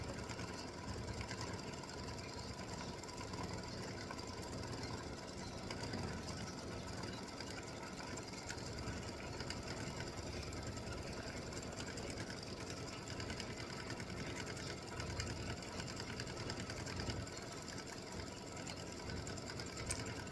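An embroidery machine stitches a design in the hoop, its steady fast needle clatter and motor hum running continuously and fairly quietly throughout, with no talking.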